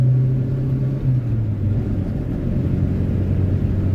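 A 1978 Honda Civic's engine drones steadily from inside the cabin as the car cruises along, with a low, even hum and road rumble that dips slightly in pitch partway through.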